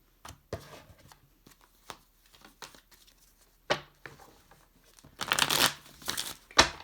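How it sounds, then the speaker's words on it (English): Soft, intermittent riffling and flicking of tarot cards, quiet at first and building into louder bursts of shuffling near the end. "feel free to skip forward unless you like listening to the shuffle"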